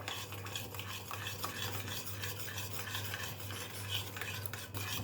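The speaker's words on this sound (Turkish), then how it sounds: "Bunu iyice karıştırıyoruz. Yani eritiyoruz şekeri." Sugar being stirred in a pan with sunflower oil so it melts, a steady close scraping and stirring with a faint sizzle running continuously and alone throughout.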